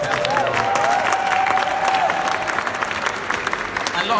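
A student election crowd applauds and cheers, many hands clapping steadily with a few whoops and a faint whistle rising over the clapping, while some voices talk underneath.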